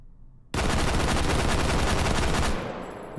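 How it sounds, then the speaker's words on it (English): Sustained automatic fire from a G3SG1 battle rifle in a VR shooting game, a loud continuous burst of rapid shots emptying a magazine for about two seconds before cutting off, with no talking. "But let's dump another mag."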